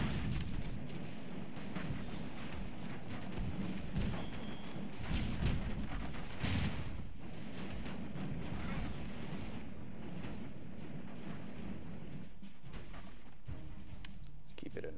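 Airship guns and flamethrowers firing in battle in Airships: Conquer the Skies: steady, dense crackle and rumble of repeated shots and bursts, moderately loud and continuous, with a speaking voice over it.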